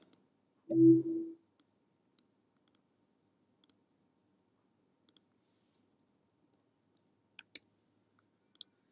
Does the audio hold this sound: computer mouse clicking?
yes